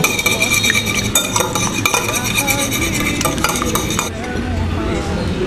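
Palm cake batter with baking soda, salt and cornflour mixed in a bowl, a quick repeated clinking and scraping of a spoon against the sides, close and fairly loud, with some faint voice in the background.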